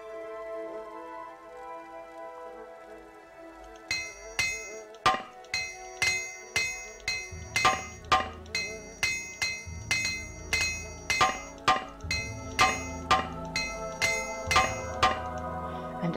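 Repeated metallic hammer strikes ring out as armor is repaired in the Morrowind video game, starting after a few quiet seconds and continuing in a steady, evenly spaced clinking rhythm, fairly close and moderately loud, with no talking.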